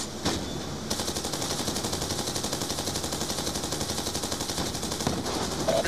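Sustained automatic gunfire from enemy forces in Black Ops 2 during an escort mission, rapid continuous bursts running nearly the whole time, loud and dense with no pauses.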